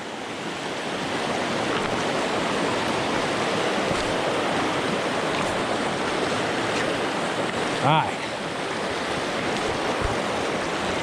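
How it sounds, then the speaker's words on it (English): River rapids near Seattle rush steadily in a continuous broadband roar of churning water, close and loud throughout, with someone speaking briefly over it. "You see the rapids coming down here"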